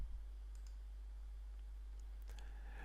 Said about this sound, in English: Click this and then click Extract File.